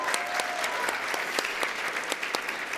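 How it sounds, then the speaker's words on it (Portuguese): A crowd applauds steadily through the whole short stretch, dense clapping with a few sharper claps standing out, heard at moderate level in a live talk-show setting. "uma salva de palmas de novo pra ele"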